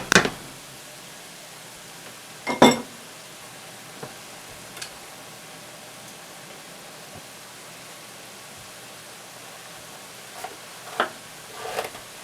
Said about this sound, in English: I'm still browning my burger